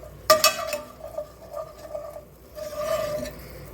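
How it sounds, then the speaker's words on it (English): Garlic being stirred in a pan while cooking pasta dinner, giving a sharp utensil clank against the pan and then soft scraping and light clinks that come and go, close and fairly quiet. "I'm going to add my garlic first. And I'm going to give that a stir."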